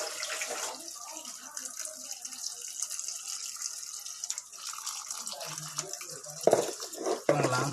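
Freshwater algae being rinsed clean by hand in water, with steady running and splashing water throughout and louder sloshing near the end.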